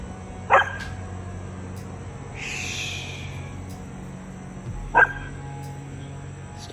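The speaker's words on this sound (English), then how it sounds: "What you barking at?" A dog gives two sharp barks, several seconds apart, over a quiet background hum.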